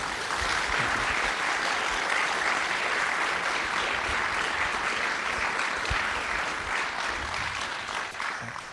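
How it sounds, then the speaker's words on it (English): An audience applauds a speaker at a lecture on national values, diplomacy and friendship, with steady, sustained clapping from a sizeable crowd that carries on evenly and thins slightly at the end. "Let's give him another round of applause,"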